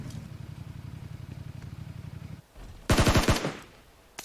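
Gunfire in PUBG Mobile: a rapid run of automatic shots under a vehicle engine drone, then a loud close burst of several shots near the end.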